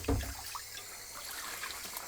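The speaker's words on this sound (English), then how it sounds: "this clean water is just going to roll back into the sink" Clean water runs back into a darkroom sink after washing resin-coated photographic prints, a faint, steady trickle with a brief splash at the start and no talking.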